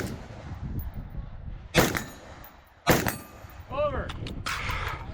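Rifle shots at an outdoor 3-gun match, two loud single cracks spaced about a second apart, followed by a ringing metallic ping of a struck steel target and a spinner, with brief talk over it.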